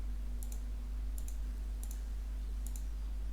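Faint double mouse clicks on a Windows 11 settings save button, four short pairs spaced about a second apart over a steady low electrical hum.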